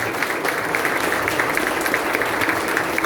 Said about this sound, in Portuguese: Dê um aplauso ao Senhor em nome de Jesus.